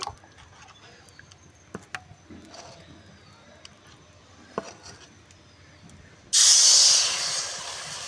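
Batter hits hot mustard oil in a wok for thin rice-flour pitha, bursting into a loud, bright sizzle about six seconds in and holding steady to the end after quiet kitchen clatter.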